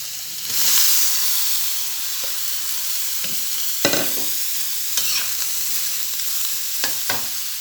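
Shrimp, pork and vegetables stir-fried in a pan, giving a steady sizzle and hiss broken by several sharp scraping clatters of stirring, with no voices.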